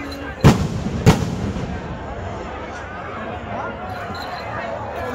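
Two sharp firecracker bangs go off less than a second apart at an outdoor village festival procession, followed by a continuous murmur of crowd chatter.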